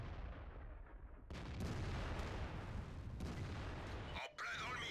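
A Lorraine 155 50 artillery gun fires in World of Tanks, two heavy booming blasts with long rumbling tails over a constant noisy battle bed, likely with a voice talking underneath.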